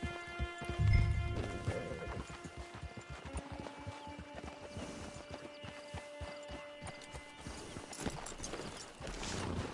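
Horse hooves clip-clopping in Red Dead Redemption Online, a steady run of near hoofbeats over a bed of music and ambience, with a brief whinny near the start.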